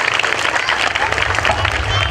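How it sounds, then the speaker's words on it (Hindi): Audience applause for small children at a school annual day celebration, a steady, dense wash of clapping from a crowd, loud and continuous throughout. "इन नन्हे मुन्ने बच्चों के लिए तो जोरदार ताली होनी चाहिए और जोरदार"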